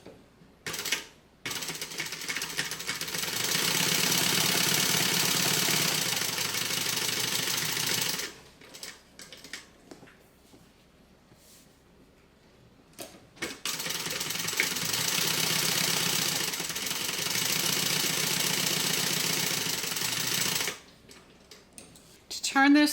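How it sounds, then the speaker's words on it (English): Sewing machine stitching down both sides of a folded lining slip pocket for a backpack, running in two long steady bursts with a pause between and brief handling noises. "I'm just going to fold it in half, right sides together. We're going to stitch down both sides."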